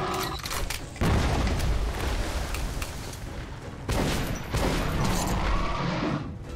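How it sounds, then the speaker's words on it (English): A grenade detonating in the video game Metro Last Light Redux, heard as loud booming bursts with a heavy rumble at about one second and again near four seconds, over continuous gunfire and combat noise. "Another grenade for you"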